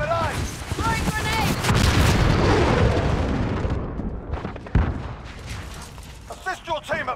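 A grenade explodes amid gunfire in a first-person shooter game, with a heavy boom, rumbling aftermath and bursts of shots, followed by a sharp blast and faint voice chatter under the action.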